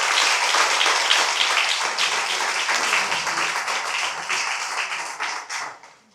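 Audience clapping at a municipal election campaign meeting in Morne-à-l'Eau, a dense steady patter of many hands that holds for several seconds and then tapers off at the end.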